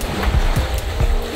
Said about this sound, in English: just the waves lapping against the hull